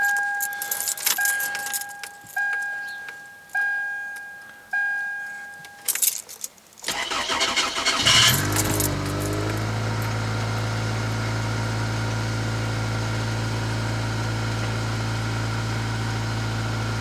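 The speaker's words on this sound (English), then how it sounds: "Let's go ahead and cold start this thing." Keys jangle and a starter clicks repeatedly before the engine of a Chevrolet Malibu Classic cold starts, catching with a rising roar and settling into a steady, close idle.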